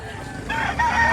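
Yellow Tiger Cuban rooster at a breeder's farm in Lipa, Batangas, letting out a single short crow that rises partway through, moderately close, with faint background noise.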